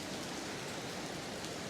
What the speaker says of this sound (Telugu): వాన అయితే దుమ్ము లేపుతుంది